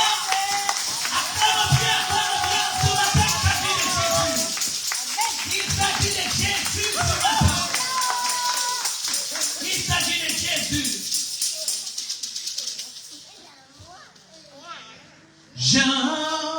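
Church congregation clapping together and acclaiming Jesus, rhythmic applause under loud music and voices, then fading to quiet near the end before a brief burst returns.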